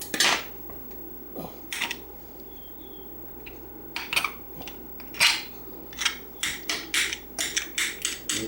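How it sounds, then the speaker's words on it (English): A knife clinks and scrapes against a pot while breaking up cooked ham for canning pinto beans: sharp metallic taps and clatters, sparse at first, then a quicker rhythmic run of strikes near the end. "You need to just take your knife and cut it."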